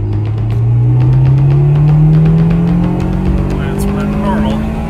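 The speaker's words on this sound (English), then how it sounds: "That's what a normal Type R sounds like." Honda Integra Type R running its factory exhaust, a steady engine note that climbs gradually in pitch as it accelerates nearby, with a car-passing feel and some voices underneath.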